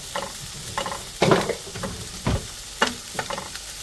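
Onions frying in a pan for Mangalorean mussels sukka, a close crackling sizzle broken by several louder scraping stirs and spoon clatters at an irregular pace, with no talking.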